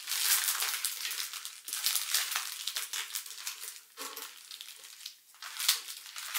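New Year stickers rustle and crinkle as a hand searches through them, a close, soft, continuous papery crackling with brief pauses.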